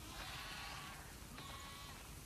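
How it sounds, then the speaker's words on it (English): Sheep bleat in The Last of Us Part II, two wavering calls one after another over a steady background hum, with no talking. "We definitely have way too many sheep."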